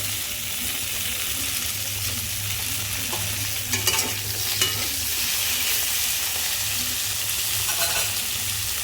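Malabar spinach stems fry in a pan with a continuous close sizzle, while a spatula stirs them in and knocks and scrapes against the pan now and then.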